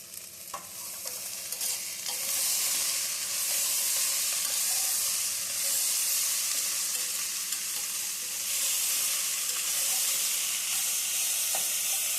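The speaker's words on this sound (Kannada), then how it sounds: "ಇದಕ್ಕೆ ನಾನು ಇವಾಗ ಟೊಮೆಟೊ ಸೇರಿಸ್ತೀನಿ ಸ್ವಲ್ಪ ಫ್ರೈ ಆಗಿದೆ ನೋಡಿರಿ" Tomatoes fry in a pan for a cluster beans curry, a loud hissing sizzle that swells after a quieter start and holds steadily close up, with faint stirring and no speech.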